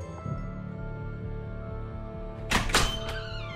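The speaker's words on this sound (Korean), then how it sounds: "귀신이 쿵쿵쿵 화장실까지 들어오는 소리가 들리는 거야" Heavy thumps from a ghost's footsteps in a spooky school ghost story, a few dull impacts landing close together near the end over a low steady hum.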